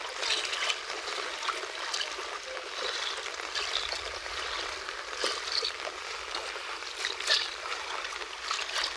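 Flood water flows and trickles steadily with a continuous bright, splashing hiss, close by and with no voices.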